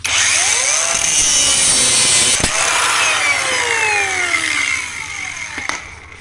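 A loud angle grinder whines as it cuts through rusted bolts, its pitch sliding up and down under load and easing off toward the end.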